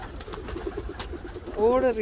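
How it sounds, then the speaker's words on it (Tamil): Pigeons coo in a park aviary in Switzerland, a short burst of soft, close cooing rising at the end over steady background talk and ambient noise. "இதுக்குள்ள குருவிகள் எல்லாம் இன்னைக்கு புறாக்கள் அடைச்சி வச்சிருக்கு"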